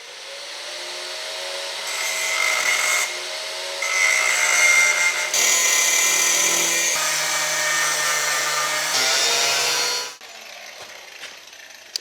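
A power tool trims the bottom edge of an OSB board, a steady, loud cutting drone with shifting pitch that runs almost continuously for about ten seconds, then drops to quieter handling noise.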